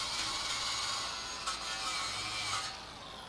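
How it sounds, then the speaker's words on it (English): A power wire brush scrubbing fresh welds on a metal driveway gate post, a steady continuous bright rasping whir that holds at an even level, with slight surges, before easing off near the end. "after we're done welding, we're going to brush the welds to prepare for paint"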